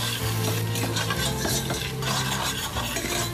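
Chopped tomatoes hit a hot pan of ginger and garlic, giving a steady close sizzle with stirring scrapes and a few utensil clinks, no talk.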